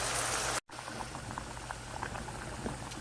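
Food simmering in a covered pot on the stove, a steady low bubbling and soft patter that runs continuously at close range after a brief cut in the sound.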